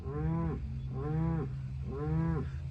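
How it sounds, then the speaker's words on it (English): Three long, drawn-out moos from a cow, evenly spaced and moderately loud, each rising then falling, over a low steady background hum. "Just tell the cow to chill for a sec."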